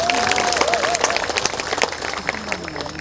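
Audience claps steadily at the opening ceremony of a community concert in Changwon, a dense, continuous patter of applause with a voice speaking over it at times.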